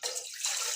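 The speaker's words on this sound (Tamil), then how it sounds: "இந்த அடுப்பில் ஊற்றுறேன்." Water poured into a pot on the stove, a short close splashing pour lasting under a second with no talk.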